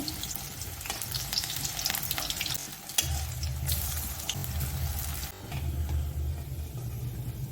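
Palta (pointed gourd) leaf pakoras sizzle steadily in hot oil close by, a dense continuous crackle with a few louder pops and no talking.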